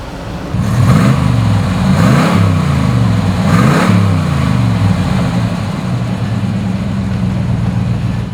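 A 1972 Chevrolet Chevelle SS engine cranks and catches, then revs up and down in several strong bursts before settling into a steady, rumbling idle, close and loud.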